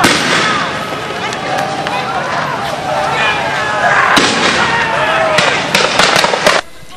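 Police fire tear gas canisters at a crowd of rally participants near a mosque, with repeated sharp bangs and pops over a constant roar of crowd noise and commotion.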